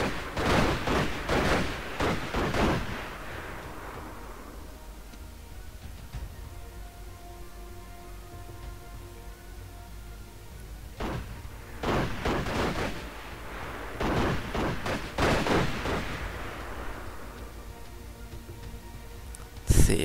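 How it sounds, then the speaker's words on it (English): Sniper rifles firing in the World War II strategy game Total War: 1942, heard as clustered bursts of sharp shots and booming reports in two loud volleys with a quieter battlefield rumble between them. "Our snipers here are still firing"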